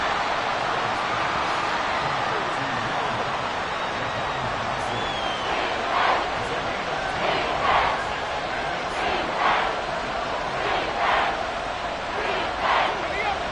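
Crowd noise from a Madden football video game stadium swells in steady waves of cheering behind the broadcast, with recurring louder surges as a big third down approaches.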